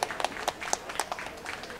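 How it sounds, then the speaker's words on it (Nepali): A crowd applauds a para-athlete at a national para-athletics meet, distinct individual claps standing out within a fairly close, moderately loud round of clapping. "उहाँलाई जोरदार तालीले हामी साथ दिउँ"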